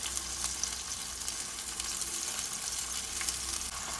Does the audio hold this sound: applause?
no